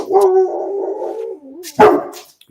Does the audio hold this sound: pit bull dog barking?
yes